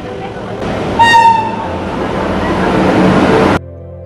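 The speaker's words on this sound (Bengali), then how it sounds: "চলুন ট্রেনটা আসুক" A train pulls into a station in Jharkhand near the Parasnath hills. A brief horn toot rises over a loud, building rumble and rattle of wheels, which cuts off abruptly to a lower hum.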